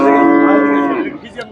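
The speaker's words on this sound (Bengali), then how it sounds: "এই যে ভাই একটা ফ্রিজিয়ান গরু" A Friesian cross bull at a cattle market gives one long, loud moo close by, holding steady before tapering off near the end, with no talk over it.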